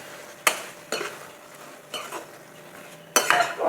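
A spatula scrapes and clanks through bottle gourd greens with coriander powder in a pan, making four or five distinct stirring strokes over a soft sizzle, close and clear.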